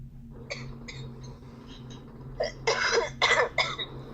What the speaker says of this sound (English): I still have this stupid lingering cough that I just can't get rid of.